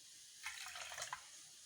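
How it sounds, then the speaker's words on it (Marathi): A little water is poured into strained mint-and-spice pani puri water, making a faint, soft splash that lasts under a second against a quiet kitchen background, with no voices. "आता आपण त्याच्यामध्ये थोडंसं पाणी टाकूया"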